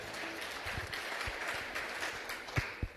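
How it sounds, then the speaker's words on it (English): Moderate audience applause at an excellence awards event, fairly quiet and steady with a few sharper claps standing out near the end. "Now really, really give yourselves a round of applause."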